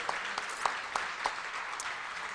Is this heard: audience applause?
yes